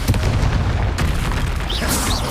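Confringo blasting spell in Hogwarts Legacy combat: a loud, dense, sustained roar of booming explosion that fills the whole moment, with a sharp crack partway through and whooshing spell effects layered on top.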